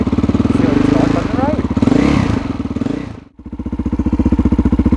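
A KTM 660 SMC single-cylinder motorcycle engine idling after warming up, a loud close rhythmic thumping with a brief dip and someone talking over it partway.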